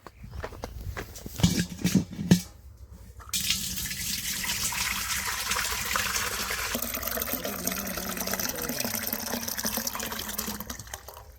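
After a few knocks and thuds, irrigation water gushes steadily and continuously into a farm field, a broad rushing flow close to the microphone that fills the rest of the clip.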